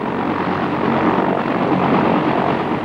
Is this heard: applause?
no